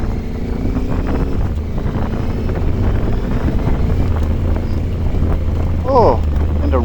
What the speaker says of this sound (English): Water crossing.